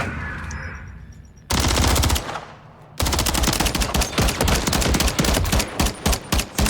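Rapid automatic gunfire from a high fire-rate SMG in a competitive collegiate shooter match, with dense bursts of loud shots separated by a brief pause, then a long sustained stream of rounds.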